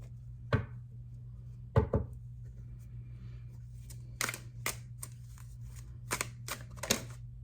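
Tarot cards being shuffled and dropping onto a table, a few sharp separate slaps early, then quicker bursts of riffling and clattering cards, close and fairly quiet over a low steady hum, with no talk.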